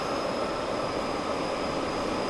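A British Rail Class 87 electric locomotive runs at speed on the West Coast line between Carlisle and Preston near Shap summit in Train Sim World 5, a steady loud broadband rumble with a thin constant high whine.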